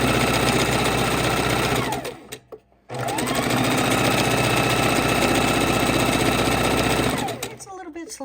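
A sewing machine runs steadily while stitching a raw edge appliqué Halloween pumpkin, its close, loud, even whir broken by a brief pause of about a second midway before it resumes, then stops near the end.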